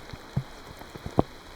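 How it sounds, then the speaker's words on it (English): Rain falls in Scotland as scattered individual drops, a few sharp splats standing out over a soft, quiet background patter. "I've almost had enough of all this rain."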